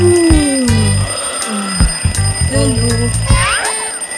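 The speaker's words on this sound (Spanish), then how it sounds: "el pequeño mono Bim dormía profundamente cuando sonó su despertador" An alarm clock rings in the morning in a cartoon about a little monkey, a busy burst of bright, repeating ringing tones that runs steadily for several seconds.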